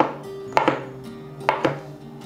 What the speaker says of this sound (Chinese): 换一个方向切成小碎丁